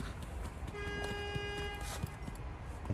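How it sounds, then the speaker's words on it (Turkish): A car horn sounds in a harmonic, sustained honk lasting about a second at a snowy outdoor spot during a snowman-building challenge, over steady background noise with scattered thumps. "Kornaya basma."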